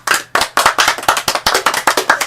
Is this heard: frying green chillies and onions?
no